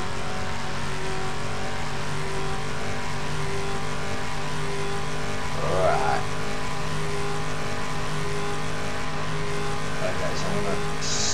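Race car in Just Cause 2 accelerating through a curve, a steady engine drone with sustained tones running throughout, moderately loud, with a voice talking over it.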